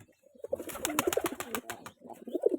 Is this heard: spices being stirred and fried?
no